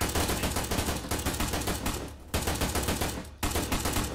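Continuous bursts of heavy .50-caliber machine gun fire from a Jeep-mounted gun in the ArmA 3 combat game, loud and close, rattling almost without pause apart from two short gaps.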